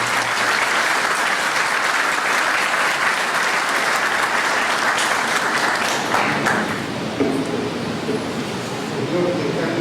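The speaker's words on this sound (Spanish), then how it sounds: "Brindémosle nuevamente un fuerte aplauso" Loud, continuous applause fills a hall at a lawyers' association ceremony honoring Dr. José Félix Niquén Manucci. It holds strong for nearly ten seconds, with voices surfacing under it toward the end.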